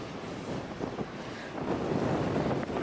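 Strong storm wind roars and buffets the microphone at a wind farm with Vestas V150 turbines, a steady broadband rush that swells louder partway through, with no voices.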